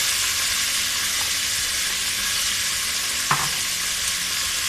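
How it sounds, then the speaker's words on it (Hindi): Mutton added to very hot oil with garlic and ginger gives a loud, steady hissing sizzle throughout, with a single brief knock partway through. "अब हम इसमें गोश्त डाल के भूनेंगे।"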